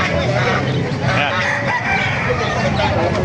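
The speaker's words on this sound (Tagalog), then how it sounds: "May mga manok." Chickens kept in a bamboo cage crow and cluck close by, several overlapping calls over a busy farmyard background, with a person talking over them.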